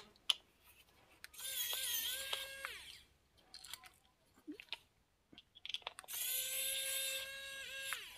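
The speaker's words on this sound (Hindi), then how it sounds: "इसके बाद दो स्क्रू यहाँ पर खोलने हैं" Two screws being taken out of an LED bulb during repair: two sustained whirring, whining bursts up close, separated by small clicks and handling noises.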